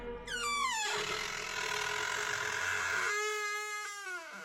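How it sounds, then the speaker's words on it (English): A door creaks open slowly in a long, drawn-out squeal that rises and falls, pauses briefly, then gives a second wavering creak, close and alone. "so I opened the door and slowly peeked in"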